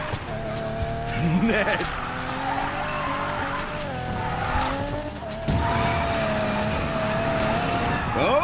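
A car drifts in the racing game Need for Speed Payback, its tires squealing in long, wavering whines over a revving engine, rising and falling through the slide. A voice briefly speaks once.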